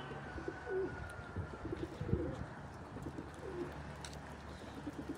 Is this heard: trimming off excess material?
no